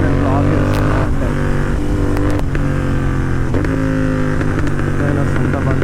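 A Royal Enfield GT 650 motorcycle being ridden, its loud engine droning steadily up close with shifting revs and gear changes, road and wind noise mixed in, and the rider talking over it.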